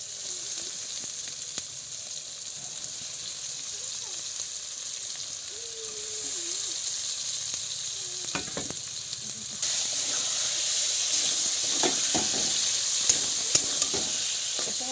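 Spice paste frying in a pan for a jackfruit and prawn curry, a continuous close sizzle that grows louder partway through, with occasional stirring scrapes and no talk.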